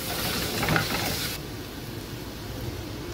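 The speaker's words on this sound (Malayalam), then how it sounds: "ഇതിലേക്ക് ക്രഷ് ചെയ്ത് വെച്ചിരിക്കുന്ന ഇഞ്ചി, വെളുത്തുള്ളി, പച്ചമുളക് ചേർത്ത് പച്ചമണം മാറുന്നത് വരെ വഴറ്റണം" Crushed ginger, garlic and green chili sautéing in a pan for a coconut milk fish curry. A bright, close sizzle for about a second and a half, then a softer steady frying hiss.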